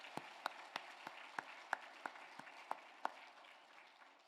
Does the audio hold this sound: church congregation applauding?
yes